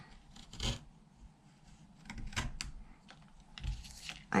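Whittling knife making push cuts into a wooden leaf pendant: a few short, dry scraping and shaving strokes, close and faint, separated by quiet pauses, with no talking.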